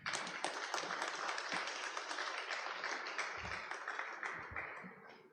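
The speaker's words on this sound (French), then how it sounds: "j'aimerais que vous applaudissiez chaudement pour moi, ma très chère maman, s'il vous plaît" A funeral congregation applauds warmly for a departed mother, a faint, dense patter of many hands clapping at a distance that holds steady for several seconds before tapering off.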